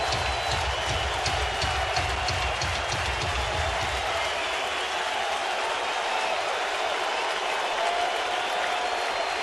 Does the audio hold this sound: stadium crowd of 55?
yes